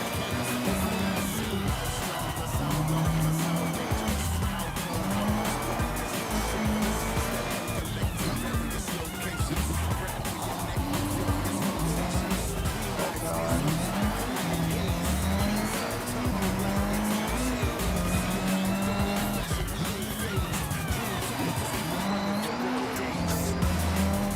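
Racing car engine roaring with repeated tire squeals and skids in an online driving video game, loud and continuous throughout, with engine pitch rising and falling as the car accelerates and corners.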